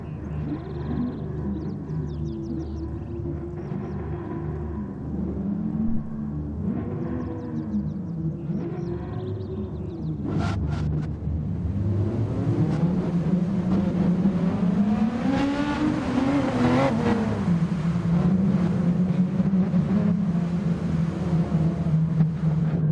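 Race cars scream past with engine notes rising and falling, a pack of cars heard from an onboard or close position, the roar growing louder and denser in the second half, with no talk.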